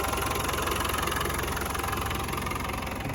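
The 200tdi diesel engine of a 1992 Land Rover Defender 90 idles with a steady, close, rattly clatter and a constant knock that stays even throughout.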